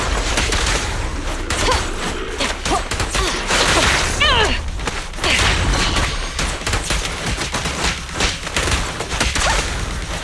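Sustained gunfire in Zenless Zone Zero, loud rapid bursts mixed with thuds, booms, whooshes and crashing impacts in a dense, busy combat barrage.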